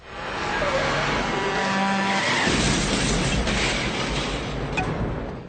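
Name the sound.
truck head-on collision in a Nightmare on Elm Street film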